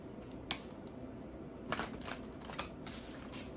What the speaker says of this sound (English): I'll do a couple of shuffles here.